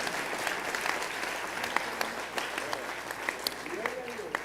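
Church congregation applauding together during a sermon, a steady wash of many hands clapping at moderate distance, with a few sharper individual claps and a brief voice rising near the end.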